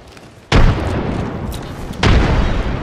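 A frag grenade bursts in the Apex Legends video game with a loud, close boom, followed by a second heavy blast about a second and a half later.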